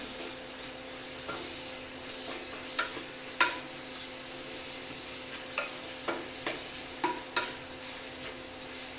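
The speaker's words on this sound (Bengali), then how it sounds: "এটাকে আমি একটু ভালো করে ফ্রাই করে নিই।" Chicken and potatoes frying in a pan with a steady sizzle, while a utensil stirs and knocks against the pan in irregular light scrapes and taps.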